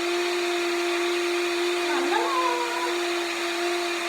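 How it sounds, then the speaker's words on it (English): A high-speed electric blender whizzing eggs whirs steadily with a constant motor hum, while a voice speaks briefly over it midway. "You could just use a hand whisk or a normal blender."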